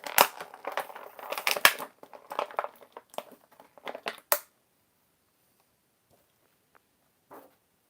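Plastic and cardboard packaging of a DC Essentials Cheetah action figure being torn open, a burst of close crinkling, crunching and ripping for about four seconds, then near silence with a single faint rustle later.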